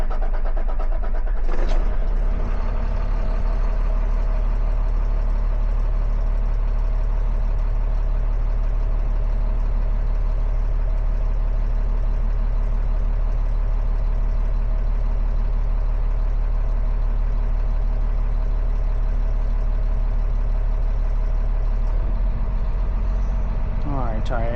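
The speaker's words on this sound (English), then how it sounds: "Alright, we're going to crank our engine up." A Cummins ISL9 diesel engine cranks briefly, catches and settles into a steady, loud idle that holds for about twenty seconds, close to the microphone.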